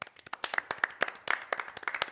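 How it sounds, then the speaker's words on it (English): A small group claps for an injured NFL referee at a Packers versus Lions game, quick uneven hand claps sounding close and fairly quiet, alone without voices. "Clap it up for the ref."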